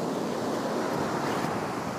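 Ocean surf breaks steadily on a fishing beach, a broad continuous wash of waves with some wind buffeting the microphone, loud and unbroken, with no talking.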